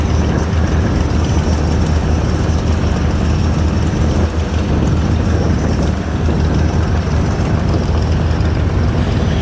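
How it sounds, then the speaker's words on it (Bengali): Big diesel engines of passenger river launches racing side by side, including the Sundarban 15, a steady loud low rumble and drone with no breaks, heard alone. "একসাথে তিন লঞ্চের রেসিং চলতেছে আর দুইটা লঞ্চে একবারে ওভারটেক করার একটা ফিলই আলাদা"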